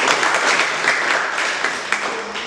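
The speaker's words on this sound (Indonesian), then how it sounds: "tepuk tangan" Applause from a classroom audience, dense and steady clapping close by that fades slightly toward the end.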